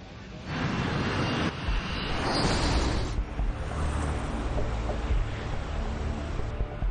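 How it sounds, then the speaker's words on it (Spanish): An MD-87 airliner rolls down the runway at Linate airport at about 260 km/h, producing a loud, steady, broadband jet roar that holds without a break for the whole stretch. "Ahora el MD-87 avanza a 260 kilómetros por hora y rueda por la pista"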